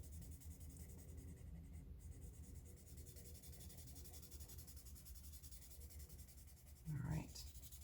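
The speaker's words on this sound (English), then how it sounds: "I like to blend mostly with my pencil first, and I just use the blending stick for smoothing." A graphite pencil shades and blends on paper while a person draws necks and ears. Close, steady scratchy strokes rub continuously throughout, ending with a brief louder scrape near the end.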